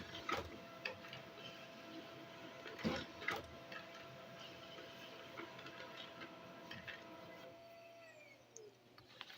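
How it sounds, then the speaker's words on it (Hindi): An office printer runs a print job of a Microsoft Word document, with a steady mechanical whir and repeated clicks and clacks as pages feed through, then winds down near the end; no one speaks. "और अब मैं यहाँ से प्रिंट ऑर्डर दे देता हूँ।"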